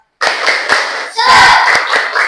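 Primary school class doing the tepuk semangat spirit clap, several sharp rhythmic group claps followed by children shouting together, close and loud in a classroom.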